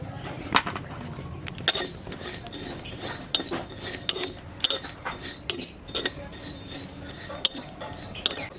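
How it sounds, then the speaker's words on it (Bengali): Cumin seeds dry roasting in a pan for a spiced pickle, giving a steady faint crackle with repeated light metallic clinks and scrapes of a spoon against the pan, close up and without talk. "জিরাগুলো ভেজে নেব।"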